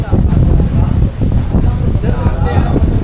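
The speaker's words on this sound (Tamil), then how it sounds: "காற்று வந்து சூப்பராக அடிக்குதுங்க, செம்ம காற்று." Strong wind buffets the microphone in a steady low roar at a trekking viewpoint at Rosemala, Shendurney, continuous and loud throughout.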